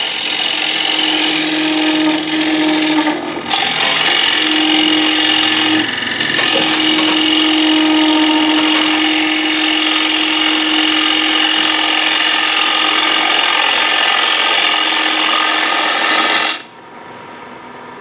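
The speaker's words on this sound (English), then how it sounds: "all I'm going to do is just swing the bowl gouge around" A bowl gouge cutting a wooden bowl on a spinning lathe gives a steady, loud rasping scrape with a faint hum, briefly interrupted twice, then the cut stops abruptly near the end.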